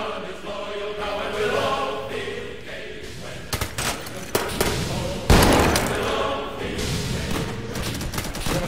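Scattered video game gunshots and heavy thuds in a prison riot roleplay pop over a murky background rumble, with one loud sharp blast standing out midway.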